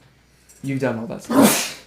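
A single close, loud sneeze bursts out near the end, preceded by a person talking.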